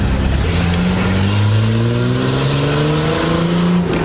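A straight-piped, naturally aspirated Nissan Patrol with a TD42 engine revs hard, its loud, raw exhaust note climbing steadily in pitch across the run with no voices over it.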